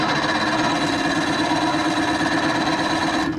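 A 1987 Johnson 40 hp outboard motor runs with a loud, rapid mechanical rattle and steady knocking drone, close and continuous, cutting off abruptly at the end.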